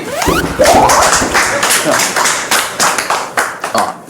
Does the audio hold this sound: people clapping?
yes